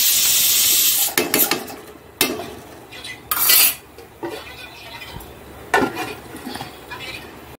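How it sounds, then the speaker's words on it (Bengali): Egg curry stirred in a pan with metal spoon scrapes and clinks, a soft sizzle beneath, then a lid set down with a clatter; close, in a few separate bursts with quiet gaps and no talking. "ভালো করে নেড়ে চেড়ে দিলাম, চাপা দিয়ে দিই।"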